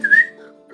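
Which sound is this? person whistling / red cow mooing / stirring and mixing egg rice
person whistling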